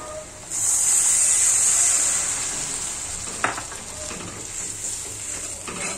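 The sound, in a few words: water added to frying onions, sizzling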